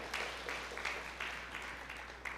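A church congregation claps during a sermon: a steady, moderately faint wash of applause with a low hum underneath, continuing evenly without voices.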